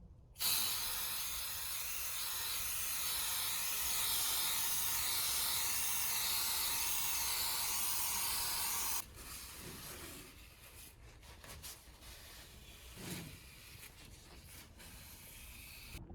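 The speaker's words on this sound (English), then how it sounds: "Now we apply the oil on the one side where the air comes in." K&N oil sprays in a steady, close hiss onto the intake side of a cleaned air filter from a Jeep Grand Cherokee WK2, running continuously then stopping abruptly, followed by quieter handling rustles and small knocks.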